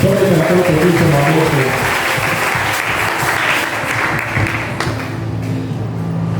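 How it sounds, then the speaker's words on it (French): Church congregation applauding and cheering for the Lord, a loud, sustained wash of clapping and crowd noise that slowly thins toward the end, with a voice over it. "Acclamons pour le Seigneur"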